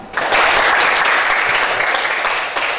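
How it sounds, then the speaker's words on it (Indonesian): Children in a classroom break into loud, dense clapping that starts abruptly and holds steady, close and energetic, for a few seconds. "Sekali lagi kita beri tepuk tangan."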